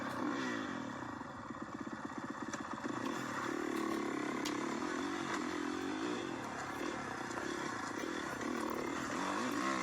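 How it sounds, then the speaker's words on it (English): A dirt motorcycle set up for hill climbing roars up a steep, rough climb, its engine droning loud and steady with rising and falling revs, accompanied by clattering and scraping from the terrain. "We got this huge gnarly hill climb that we test the bikes that we set up and build."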